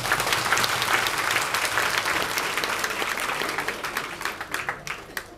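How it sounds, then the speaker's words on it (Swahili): A crowd at a political rally applauds steadily and loudly, dense clapping that thins toward the end into scattered individual claps. "Naomba tuongeze makofi kidogo."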